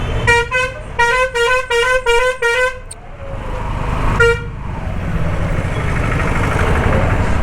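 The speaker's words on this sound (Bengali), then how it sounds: "ওরকম একটা বাসের মতো হর্ন লাগালে তবে সাইড দেবে।" A bus horn blares in a run of six loud, rapid honks, then one more blast after a pause, close by amid rumbling street traffic with motorbikes and e-rickshaws.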